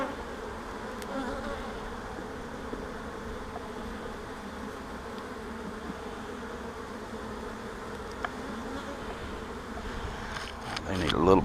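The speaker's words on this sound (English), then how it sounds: "They sound like they're getting riled." Dense buzzing of many riled honey bees in a hive, a continuous close hum with small swells, rising a little louder near the end.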